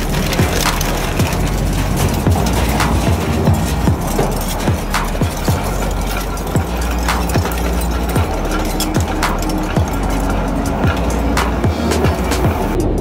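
Briquette shredder in a processing plant crushing thin scrap material, a loud continuous grinding roar with frequent cracking and splintering snaps throughout, close and dense.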